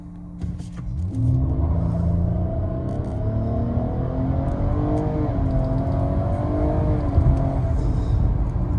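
A 2020 Nissan Maxima SL with a 300-horsepower engine accelerates hard with traction control on, its engine note climbing steadily through the gears in a loud, continuous droning rumble heard from inside the cabin.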